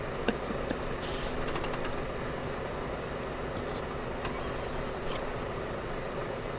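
A steady, dense drone of many truck engines idling and running together in a trucking video game convoy, with a few faint clicks and brief higher noises on top.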